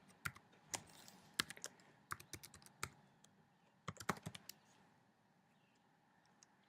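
Quiet, close taps on a computer keyboard come in irregular bursts of sharp clicks as an email and password are typed, with short pauses between runs of keystrokes.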